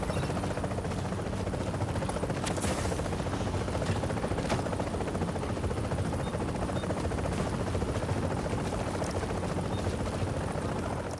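A helicopter in The Division video game on PS4 thrums with a steady rotor drone. Scattered faint gunfire pops sound over it, and the whole scene is fairly quiet and even.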